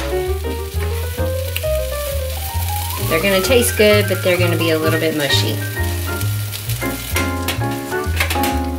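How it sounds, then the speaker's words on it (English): Steady sizzling of wet Thanksgiving-leftover patties frying in a pan runs throughout, with a person talking over it and music playing in the background. "these are frying up"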